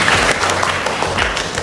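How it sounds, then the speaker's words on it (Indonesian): A group clapping for a guest in a classroom counselling session, a loud, close, brief burst of hand claps that stays steady for under two seconds. "terima kasih ya Pran, berikan tepuk tangannya kepada Bapak."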